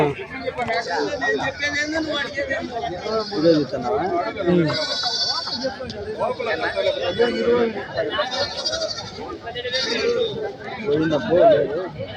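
Rams and sheep at a livestock gathering bleat repeatedly amid the steady chatter of many people talking nearby, the animal calls rising above the crowd now and then.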